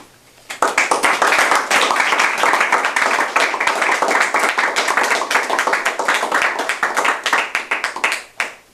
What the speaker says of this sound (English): Thank you for that applause, fellow Toastmasters